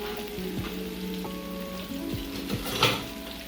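Fries and plantains frying in a pan give a steady, soft sizzle, with a few light scrapes of stirring and one brief louder crackle near the end.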